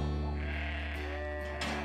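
Sheep bleat on a farm in late spring, lambs and ewes calling loudly over one another in a continuous close chorus while the lambs are drafted from the ewes for weighing.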